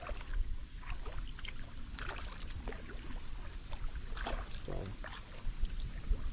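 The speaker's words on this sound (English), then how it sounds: "I'm just paddling down." Canoe or kayak paddled down the North Edisto River in September, steady faint water swishes and drips from paddle strokes over a low wind rumble, with a brief bit of talk.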